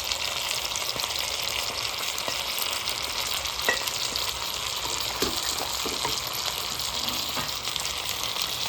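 A whole marinated chicken sizzles and fries steadily in a pan as leftover masala marinade is added, a dense continuous crackle with a few sharper spatters and stirring clicks, close and fairly loud, no voices.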